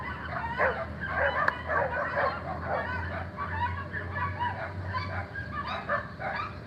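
A dog barks in short yips and lets out whimpering cries, repeated through the stretch at a moderate, close level over a steady low background hum.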